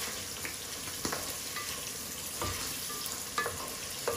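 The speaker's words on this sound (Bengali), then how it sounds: "এখন এগুলো আমি ভালো করে আবার একটু কষাইয়া নিব" Rohu fish roe and tomato sautéing in a pan, a steady close sizzle with occasional scrapes and taps of a spatula stirring, and no talking.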